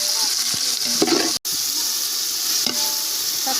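Tomatoes and onions frying in a pot for mutton biryani, a moderate close sizzle with a few stirring scrapes and one brief dropout in the middle.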